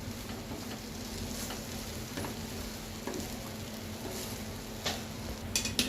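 Maggi noodles gently stirred in a hot pan for egg masala Maggi, a soft continuous sizzle with occasional light scraping strokes and a few small clicks near the end.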